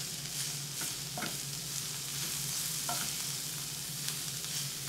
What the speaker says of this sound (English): we're just going to cook this until the Swiss chard wilts